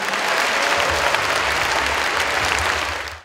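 Enthusiastic applause from a packed concert hall audience of schoolchildren at a philharmonic concert, dense steady clapping that fills the whole stretch before cutting off at the end.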